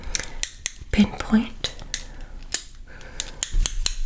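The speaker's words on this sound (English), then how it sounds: "let's get the other scissors now" Scissors snip at hair in quick irregular clicks, close to the ear, during a fast ASMR haircut, with a soft whispered word spoken partway through.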